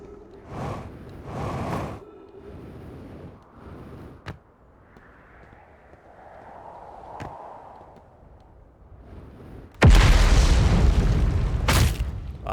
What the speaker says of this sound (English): I got really distracted by that weird explosion that just happened.